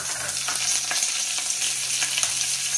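Curry leaves sauté in hot oil for a potato and beaten-rice upma, producing a constant bright sizzle with faint stirring scrapes scattered through, close by and with no voices.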